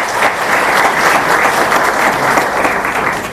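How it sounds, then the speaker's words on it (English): A large audience at an event announcing Kenya's KCPE 2018 exam results bursts into loud, sustained applause, many hands clapping in a dense, even roar close to the microphone. "Clap for yourself."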